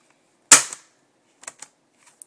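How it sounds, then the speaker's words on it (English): An Umarex Beretta CX4 Storm CO2 air rifle fires one sharp, loud snapping shot up close, followed by several fainter clicks and taps alone in quiet surroundings. "So when it shoots the first round, the blowback will chamber the next one"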